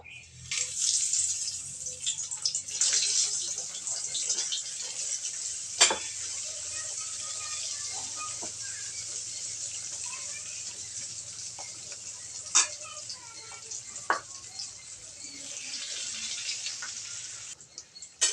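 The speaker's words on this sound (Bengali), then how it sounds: "আমি আগে থেকে তেলটা গরম করে রেখেছি এবার আমি ছানাগুলি হালকা ভেজে নেব" Chhana (cottage cheese) lightly frying in hot oil, a steady close hiss running throughout with a few sharp crackles and pops along the way.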